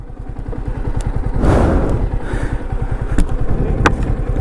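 Motorcycle being walked down a slope near Meiyai Falls outside Madurai: a loud, close, chugging idle engine pulse with thuds and clatter as the bike drops down, plus sharp knocks.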